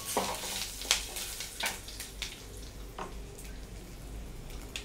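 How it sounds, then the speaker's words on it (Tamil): Asafoetida and garlic fry gently over low heat with curry leaves for a Tamil dal gravy, giving a soft steady sizzle broken by scattered scrapes and taps of a spoon against the pan. "பெருங்காயம், பூண்டு சிம்மில் வச்சுக்கலாம்."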